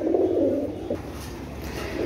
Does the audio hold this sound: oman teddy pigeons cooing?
yes